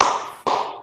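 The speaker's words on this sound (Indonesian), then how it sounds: "Kalau ibu bilang pagi, tepuknya 1 kali." Hand claps in a classroom counting game, two quick sharp claps close together, loud and near, with no talking.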